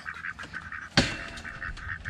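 Ducks and ducklings in a garden give close, repeated quacks, with a single louder, harsher call cutting in midway.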